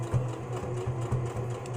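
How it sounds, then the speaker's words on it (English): A sewing machine stitches a hoodie, its motor humming steadily with a fast, even needle rhythm for under two seconds, close and clear with no talking. "let's get this sewing going"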